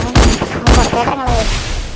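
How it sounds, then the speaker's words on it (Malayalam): Gunfire in the mobile battle-royale game Free Fire, with two loud, sharp bursts close together near the start, then a fading tail. "വീണ്ടും ഹെഡ്ഷോട്ട് അടിച്ച് ഗൈസ്."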